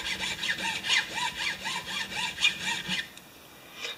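A metal file rasps in quick back-and-forth strokes across a small carburetor main jet clamped in a vise on a Honda HR194 mower, with about seven rhythmic close strokes before a short pause and one final pass.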